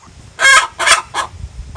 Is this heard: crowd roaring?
no